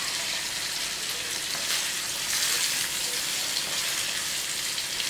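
Nethallu fish frying in a pan over low flame, a steady dense crackling sizzle that holds evenly throughout with slight swells, close and fairly loud, no voices.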